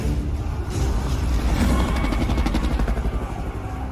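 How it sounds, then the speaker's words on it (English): A Dwarven helicopter from a Total War: Warhammer trailer thrums loudly and steadily, its rotor beating in a fast rhythmic chop that swells midway and stays close throughout. "I love those Dwarven helicopters"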